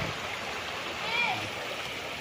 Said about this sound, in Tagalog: Mismong katabi ng ilog mga kapraps ha.